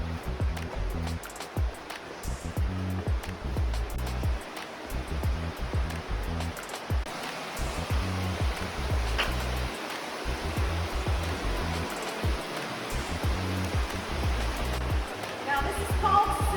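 Steady rushing of a creek flowing inside a cave, a constant broad wash of sound with no voices.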